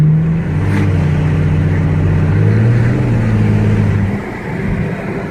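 A modified car engine revs loudly through its exhaust, caught from inside with the windows rolled down; a deep, sustained drone rises and holds in pitch, then eases off near the end.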